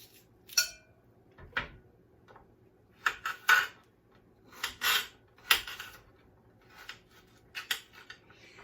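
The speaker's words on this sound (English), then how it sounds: "I'm just going to finish chopping up some onion." Onion being chopped with a knife in a home kitchen while a crockpot sirloin steak meal is prepared: a series of irregular, close, crisp cutting knocks with short pauses between them, heard alone without talk.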